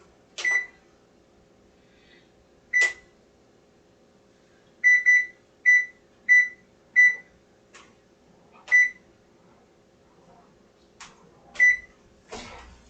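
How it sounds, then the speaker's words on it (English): A kitchen oven beeps over and over: single sharp electronic beeps at irregular intervals, with a quick run of four in a row near the middle, loud and close against a quiet room. "sorry about that beeping"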